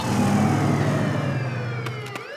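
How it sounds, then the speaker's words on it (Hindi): A police siren wails loudly up close over rumbling engine noise, its pitch sliding and sweeping as a vehicle passes, with sharp clicks near the end. "ये तो पुलिस का सायरन है।"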